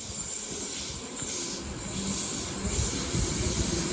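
A train passing on the line at Cheltenham in the afternoon peak, a continuous loud rumble and hiss of wheels and carriages rolling by close up.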